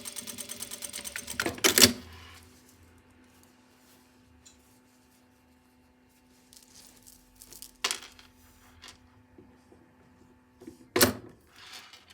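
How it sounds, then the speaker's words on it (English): A sewing machine runs in short bursts while stitching the neck seam of a jacket, with a quick whirring stretch at the start and a few brief loud mechanical clacks and knocks later, separated by quiet pauses. "Okay, that's on the neck. I'm going to sew that in next."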